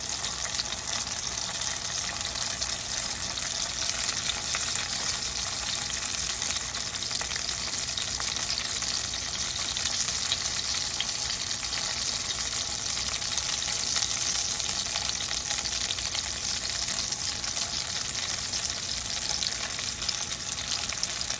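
Pieces of firecracker salmon fry in a hot pan with a loud, unbroken sizzle that holds steady throughout and is heard alone.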